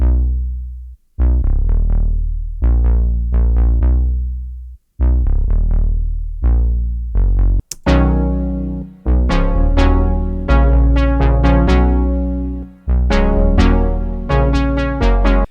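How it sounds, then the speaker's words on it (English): A gritty, distorted synth bass with its low-mids cut pumps out a rhythmic line of punchy notes with brief gaps for a chill house track, loud and upfront, no voices. "The bass sounds like this now."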